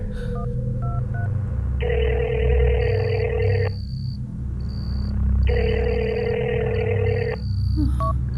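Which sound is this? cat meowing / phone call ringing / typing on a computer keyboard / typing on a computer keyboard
phone call ringing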